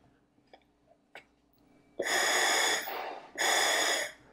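Two long, loud hissing inhalations through a scuba regulator during a dive gear test, each about a second and a half, preceded by a few faint clicks and soft breaths in a quiet room.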